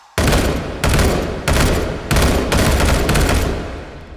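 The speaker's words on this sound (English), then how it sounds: "we have a fire selector that is accessible by the main hand on the FAMAS here that takes us between safe, isn't firing, semi, and a 3-round burst" FAMAS rifle in the VR shooter H3VR firing repeated bursts of gunfire, loud and close, with several sustained volleys spaced about half a second apart and no talking.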